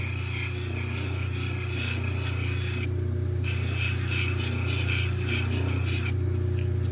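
Fordite, layered automotive paint, is rubbed down by hand: steady raspy scraping strokes with short pauses, close and clear over a constant low electrical hum.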